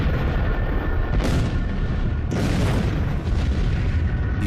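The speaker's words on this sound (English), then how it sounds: "the fireball entered our atmosphere and violently exploded above" A fireball explodes above Siberia's Tunguska forest as a documentary effect: sustained heavy booming rumble with two fresh blasts rolling in, loud and dense throughout, no voices.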